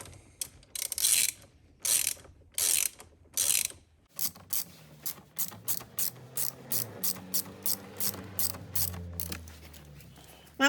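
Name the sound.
ratchet tightening steering wheel bolts on a Cadillac CT5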